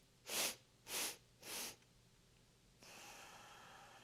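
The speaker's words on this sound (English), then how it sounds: "You're going to sniff in 4 times and then exhale." Three short, sharp sniffs in through the nose during yoga breathwork, evenly spaced and close, followed by a softer, longer breathy exhale.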